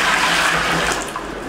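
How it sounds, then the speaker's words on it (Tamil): A steady rush of about ten litres of water pours continuously into a cooking pot, a loud splashing flow with no voices. "ஒரு 10 லிட்டர் தண்ணியை ஊத்தி நல்லா கொதிக்க விட்டுறணும்"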